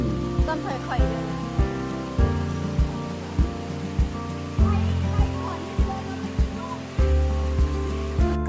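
Khun Korn waterfall in Chiang Rai roars steadily as broadband rushing water, with repeated sharp knocks and thuds from footsteps or handling close by.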